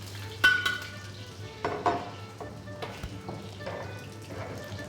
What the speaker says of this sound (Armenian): Ձուկը պիտի տապակենք։